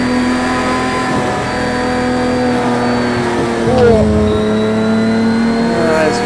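A 1999 Lamborghini Diablo GTR engine in the Project Cars 2 racing game, a steady loud engine drone that dips and rises again around a gear change partway through, with someone talking over it.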